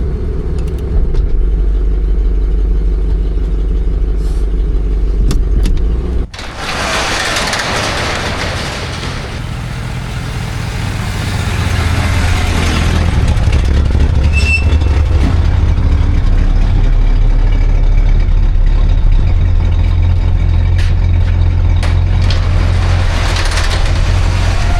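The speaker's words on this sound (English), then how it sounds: "Little exhaust leak." A 1978 Dodge Monaco patrol car idles with a small exhaust leak, giving a steady low rumble close by that rises into a heavier engine drone partway through and holds there.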